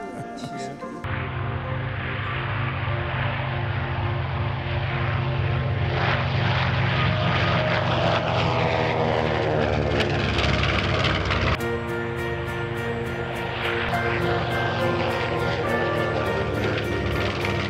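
Several propeller airplanes flying together, their engines droning loudly and continuously with pitch shifting and beating as they pass overhead.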